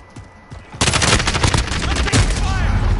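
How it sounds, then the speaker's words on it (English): Loud, close automatic gunfire in the shooter Call of Duty: Modern Warfare (2019), a rapid sustained burst starting abruptly after a brief quieter moment and rattling on to the end. "I'm shooting this motherfucker"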